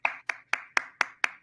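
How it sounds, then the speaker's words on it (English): A man's hands clapping six times in a steady, even rhythm, each clap sharp and close, with no talking over it. "Look at him clapping."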